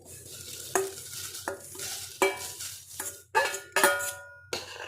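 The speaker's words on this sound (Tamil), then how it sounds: "இப்போ நம்ம ஃப்ரை பண்ணி வச்சுருக்கிற அவலை இதோட ஆட் பண்ணிக்கலாம்." Fried poha flakes go into boiling water for aval javarisi payasam, with repeated sharp metallic clinks of a spoon against the pot over soft bubbling and sizzling, close and fairly quiet.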